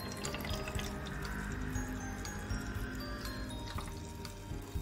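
Water trickles and splashes steadily as the small pump of a mini sump aquarium (Momo Tank) circulates it, a continuous close gurgle with faint drips and no voices.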